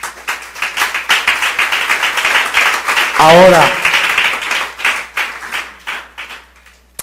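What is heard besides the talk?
congregation applause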